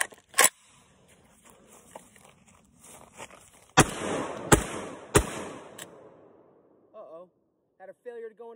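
Sharp, loud shotgun blasts from an SDS Lynx 12 gauge magazine-fed shotgun during break-in testing: one isolated shot, then three in quick succession, each ringing out briefly, with a faint voice near the end.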